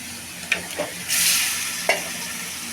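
Meat and bottle gourd fry with ground masala in a pan, a close sizzle that swells into a loud hiss, with sharp clinks of a spoon on the pan.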